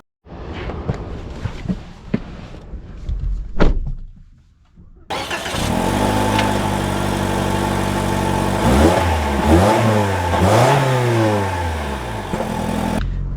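A 2025 Toyota Corolla Hatchback starts up and runs, the engine turning over into a steady close idle, then rising and falling through a few revs as the car sets off, with brief rustling before ignition.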